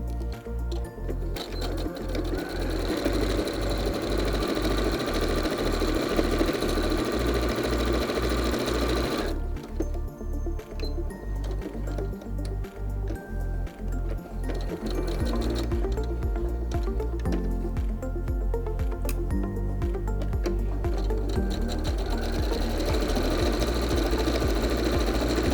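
A sewing machine stitches Santaflex fabric for a men's toiletry bag, running in loud, rapid mechanical bursts with brief pauses between seams, close and without talk.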